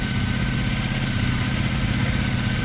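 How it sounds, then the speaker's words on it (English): A Triumph Bonneville motorcycle engine, freshly installed with fresh oil and a new valve cover, runs on its first startup with a steady, close, low idle rumble and no voices. "Here's our first startup."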